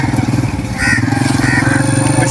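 A motorcycle engine idles steadily up close in a rural bandit-troubled area, a continuous low throbbing that runs the whole time with faint voices over it.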